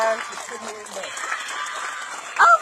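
A crowd applauds a congresswoman at a ribbon-cutting event in Randolph, with a burst of clapping mixed under people talking and a louder swell near the end.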